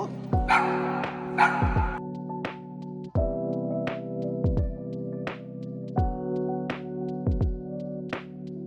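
A small, friendly dog yapping in short, sharp bursts, about a dozen high barks spaced irregularly and close by, over a steady hum with almost no talking.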